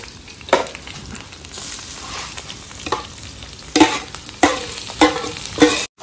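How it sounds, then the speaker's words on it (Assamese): Duck meat sizzles steadily in a hot pan, with repeated scraping stirs of the utensil marking an irregular rhythm over the constant frying hiss. "মাংসটো দি দিওঁ আৰু,"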